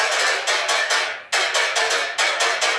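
Stereo-widened tearout dubstep bass layer with a chorus plugin, playing gritty, wide synth stabs in a steady driving rhythm, with a brief gap midway, loud and alone.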